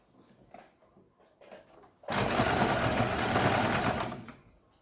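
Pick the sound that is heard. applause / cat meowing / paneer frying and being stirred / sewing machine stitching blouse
sewing machine stitching blouse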